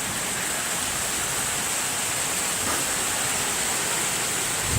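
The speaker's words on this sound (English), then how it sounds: "Can you see the waves of rain on the camera?" Heavy rain pouring down in a severe thunderstorm, a loud, steady wash of noise hissing over the ground and street with no pauses.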